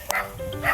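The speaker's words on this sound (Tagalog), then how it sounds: "Mga aso na ano." Dogs yip and bark in a quick, faint burst outdoors, somewhat distant, over a roadside travel scene with low background noise.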